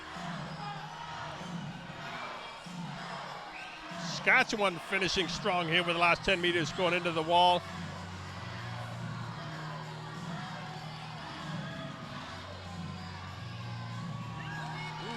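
A crowd at a provincial swimming championship finals cheers and shouts in the background during a close relay race. The noise stays steady under continuous play-by-play commentary, with a brief burst of louder yelling midway.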